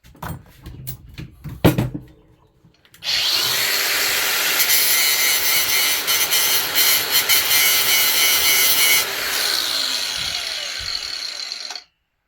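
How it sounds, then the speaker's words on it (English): A power grinder bites into a heavy chunk of brass caked with gunk, whining loud and steady for about nine seconds before cutting off abruptly, after a few quiet handling knocks. "So let's hit it with a grinder."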